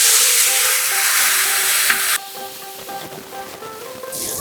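A spice mixture hits hot mustard oil, already tempered with black cumin and green chillies, for a hilsa curry with eggplant. A loud hissing sizzle drops abruptly into a quieter, steady frying sound with faint clinks and no talk.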